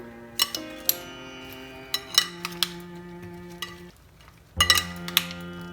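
A spoon stirs fried shrimp into sauce in a metal pan, making soft scraping and clinking hits at an uneven pace with a faint sizzle underneath, close by and with no talk.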